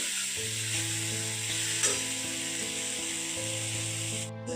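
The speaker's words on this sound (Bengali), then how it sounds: "এটাকে আমি ভালো করে এবার কষে নেবো যতক্ষণ না তেল ছাড়ে।" Spice paste with cumin and ginger sautés in oil with a continuous soft sizzle and occasional scraping as it is stirred, while a steady tonal hum from a nearby appliance runs underneath; nobody speaks.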